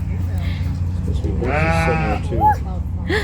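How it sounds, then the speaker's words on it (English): A sheep gives a single wavering bleat on a farm in Williamsburg, Virginia, rising out of a steady low outdoor rumble midway through, with a couple of shorter calls after it. "Look, it's a sheep."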